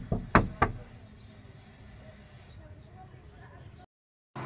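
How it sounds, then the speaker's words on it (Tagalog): Knocking on a door: a few sharp raps near the start, followed by a quieter stretch with low background noise and brief silence. "Ba't ka kumakatok?"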